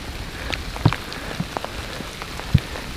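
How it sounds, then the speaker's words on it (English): A fine mix of snow and hail falls outdoors during a turkey hunt, making a steady, soft patter with a few sharper nearby ticks and no voices. "What is this snow or hail? What are we getting hit with here?"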